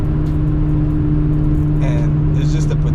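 A twin-turbo BMW N54 335i with a Flow Max turbo upgrade accelerates on a road, heard from inside the cabin as a loud steady engine drone with a constant hum, with talk over it.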